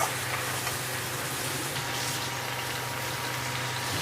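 Cluster beans sautéing in a pan with tamarind and turmeric give a steady, even sizzle and hiss, close and moderately loud, holding unchanged for the whole stretch with no voices.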